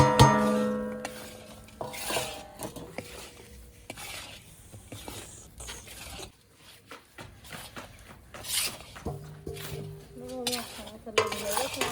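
A spoon scrapes and stirs panjiri, roasted flour mixed with ghee, in a pan, in irregular bursts of scraping and clinks with a faint sizzle and short quiet pauses between strokes.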